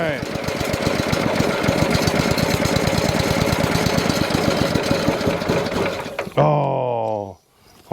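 An Allis grader Model D motor cranks over in a fast, steady rhythmic chug for about six seconds, loud and close. A voice then speaks briefly before it cuts off.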